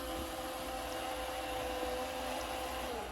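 An iRobot Roomba s9+ robot vacuum drives back to its dock with a steady, fairly faint motor hum and brush whir that continues unbroken throughout.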